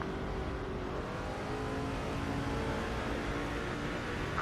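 A NASCAR race car engine revs and drones loudly in the NASCAR 07 video game, holding a steady, sustained roar with a shifting pitch throughout and no speech over it.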